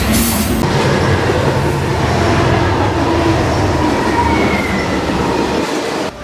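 A freight train rumbles steadily along the rails, heard from aboard while riding it, a loud continuous roar with low rolling rumble and a faint high squeal at the start, no voices.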